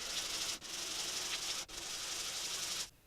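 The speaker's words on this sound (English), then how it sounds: "When you're sanding something and you want to place emphasis on one side or the other" Sandpaper rubbed by hand over a wooden piece with painted face details, taped down to hold it still, gives a steady close scratchy hiss in long strokes, broken by two brief pauses before stopping.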